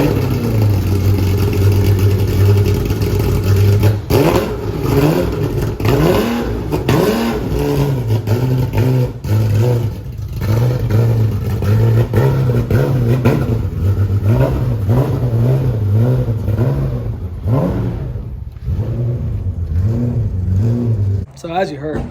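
A Porsche 997 Cup race car pulling out, its engine revving loudly and continuously with rising and falling pitch, close by and dominating throughout.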